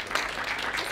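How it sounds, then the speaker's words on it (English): A brief burst of clapping from a small live audience closing a campus talk show segment, steady and moderately loud for about a second. "Big round of applause"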